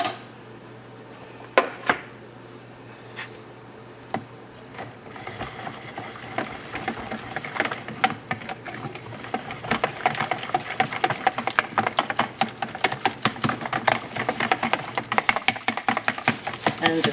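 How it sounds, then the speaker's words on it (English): A whisk beats crepe batter with melted butter and salt in a bowl, starting with a few scattered clinks and building into fast, steady, close tapping and scraping against the bowl. "And there goes my whisk."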